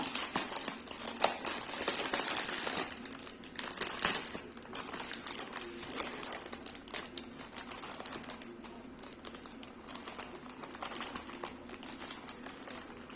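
A plastic collector's pouch is handled and opened, giving crisp crinkling and rustling with sharp little clicks and taps that come and go over several seconds, close up, with no voices.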